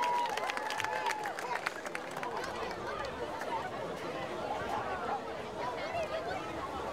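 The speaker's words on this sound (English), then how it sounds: "a nice round of applause, please, for our Taunton High School cheerleaders" A crowd at a high school football game applauds the Taunton High School cheerleaders, scattered clapping mixed with chatter and babble from the stands, moderately distant and sustained throughout.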